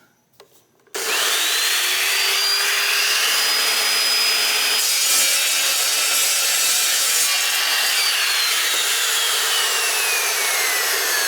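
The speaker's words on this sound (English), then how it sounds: "Okay, this 3/16 inch, I'm gonna go ahead and cut this into 2-inch sections." Cutting 3/16 inch stock into 2-inch sections for rear subframe tabs with a power saw: a loud, steady grinding whine starts after a second of quiet and runs unbroken to the end, with a tone sliding gradually.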